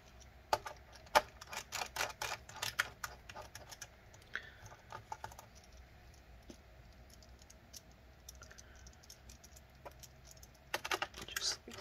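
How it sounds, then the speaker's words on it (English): Small screws are driven back into the underside of an HP 15-R014TX laptop during reassembly, with clustered sharp clicks and ticks in bursts separated by quieter stretches, close and fairly faint. "we'll put back the screws here."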